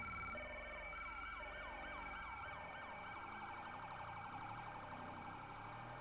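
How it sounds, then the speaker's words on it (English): A Pathfinder police siren from a video game, loud and continuous, sweeping up and down in a steady wail with a busy game engine rumbling beneath it and no talk. "I think it's the actual Pathfinder siren."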